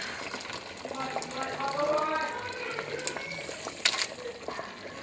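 Potato soup bubbles and simmers in a pot at a low, steady level, with faint clinks and soft background voices.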